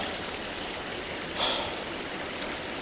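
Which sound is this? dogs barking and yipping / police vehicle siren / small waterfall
small waterfall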